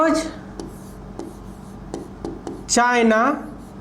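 Chalk or marker taps and scratches on a board in short, separate strokes during a lesson, fairly close, interleaved with a man's speech.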